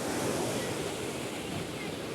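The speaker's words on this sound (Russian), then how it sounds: "Вот такие волны бегут." Sea waves rolling onto a beach, a continuous close wash of surf with breezy wind noise buffeting the microphone, fairly loud and steady throughout.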